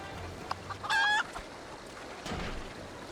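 A chicken in the Final Fantasy XIV video game gives a short, bright clucking call, one quick burst standing out over a quiet ambient game background.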